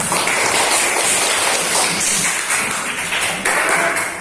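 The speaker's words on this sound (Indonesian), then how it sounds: "Oke, tepuk tangan semuanya." A group of children in a classroom clap together in a dense, loud, continuous patter that stays level for several seconds without any speech.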